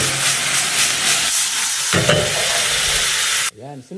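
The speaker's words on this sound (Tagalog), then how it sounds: "Sauté lang natin hanggang sa mag-translucent yung ating sibuyas or yung lumabas yung sarili niyang katas." Onions and vegetables sizzle loudly in a hot pan, producing continuous steamy hissing that cuts off abruptly near the end.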